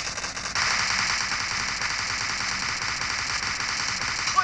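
Rapid automatic gunfire from PUBG Mobile, heard through Boat Rockerz 400 Bluetooth headphones, rattles on continuously and loudly for the whole stretch after a brief quieter opening, with no talk over it.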